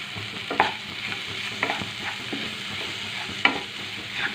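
Masala with ginger paste stir-fried in a pan: a continuous sizzle broken by scraping spatula strokes and a few sharp clacks against the metal, close and even in level.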